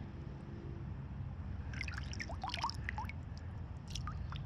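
A PoolLab 1.0 photometer is submerged in pool water to draw a sample, giving quiet gurgles, drips and bubbly trickles over a low steady background, close and faint.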